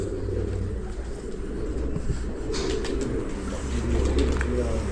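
Racing pigeons at a loft during the All Punjab three-day tournament give low, soft coos amid a steady outdoor hum with faint passing traffic.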